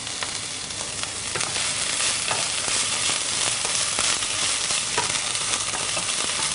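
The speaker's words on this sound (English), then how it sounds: "So give it a bit of a stir, turn it down a little bit" Plum and ginger sauce bubbling in a hot pan, a loud, dense sizzle with crackles and the scraping of a spoon stirring, close and continuous with no talk.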